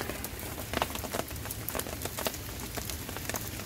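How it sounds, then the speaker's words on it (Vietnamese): Rain falling outdoors beside water during a fishing outing, a dense, even patter of drops hitting surfaces, with scattered sharper taps throughout and no pauses. "Mưa rồi."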